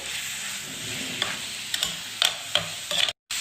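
A spoon stirs chicken kachori filling with lemon juice in a hot pan, giving a few close scraping and clinking strokes over a low sizzle, with a brief silent gap near the end.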